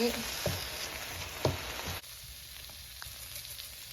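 Thai pork chili paste is stir-fried with garlic, shallots and lemongrass in a pan. A soft sizzle is broken by a few light stirring clanks, then it drops to a quieter, steady hiss.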